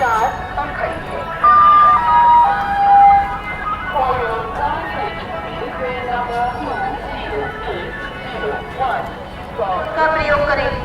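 Melodic announcement chime sounds on a busy Indian railway platform at Firozabad, a bright tonal jingle rising over crowd chatter and station bustle, with people talking throughout.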